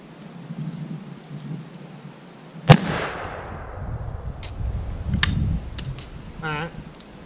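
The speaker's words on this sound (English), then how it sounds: "going to be shooting it one-handed, because I'm going to be holding the decoy in the other hand" A .410 shotgun, held one-handed, fires a single sharp, loud blast outdoors at a turkey decoy a few yards away. Quiet ambience comes before and after the shot.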